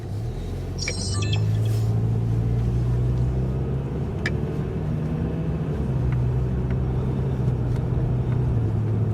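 A 2000 Toyota Camry with a repaired exhaust on a test drive, a steady low engine hum and road rumble heard from inside the car, with a brief clatter near the start.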